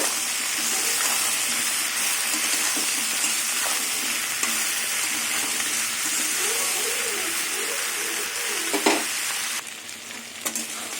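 Taro stolons and potatoes fry in a pan with a continuous close sizzle, broken by frequent scraping stirs and a few louder clatters, and no one speaks over it.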